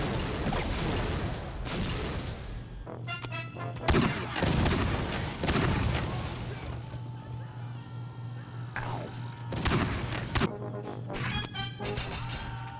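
A rocket launcher in the video game Postal 2 fires in rapid bursts, loud booming blasts and crashing explosions repeating irregularly over a low steady game hum, with someone talking between and over the shots.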